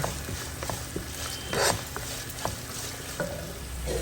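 Onions fry with salt in hot oil, giving a steady close sizzle broken by a few scraping stirs and light clinks of a utensil in the pan.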